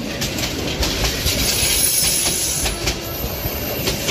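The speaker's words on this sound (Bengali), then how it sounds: "ট্রেনটি আমাদের নামিয়ে দিয়ে আবার ঝিকঝিক শব্দ করে চলতে শুরু করলো।" A train rolling away from a small rural station, giving a steady, loud rumble with faint rhythmic clicks and hiss and no voices.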